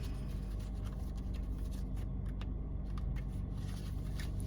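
A deck of SAFMEDS flashcards shuffled by hand inside a parked car, giving soft riffling flutters and light clicks over a steady low rumble, with no one speaking.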